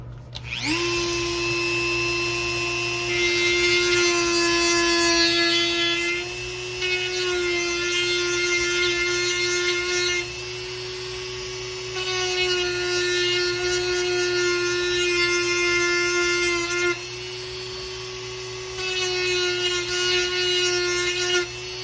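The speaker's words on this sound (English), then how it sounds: "using my trusty old Dremel, I'm going to put little notches in these" Old Dremel rotary tool cutting small notches into model fence pieces for an O gauge layout, a steady high-pitched whine with harmonic overtones, rising and grinding harder in several bursts as the bit bites into the material, close up with no talking.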